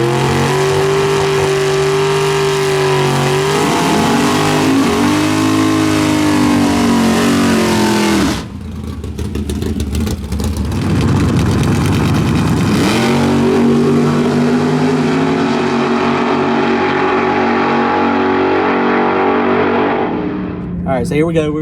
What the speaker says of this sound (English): they got a few bracket cars that are going to be going